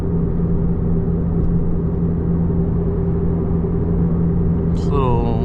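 A V8 car drives through a Southern California rainstorm, its engine a steady close low rumble and drone with constant road and rain hiss underneath, and a brief higher whine near the end.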